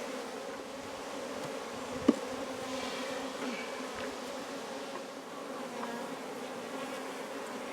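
Honey bees buzz steadily in an open beehive during an inspection, a soft continuous drone with one brief knock partway through.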